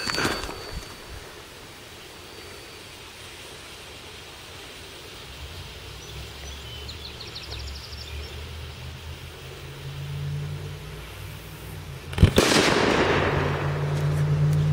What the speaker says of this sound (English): That made a pretty good loud bang.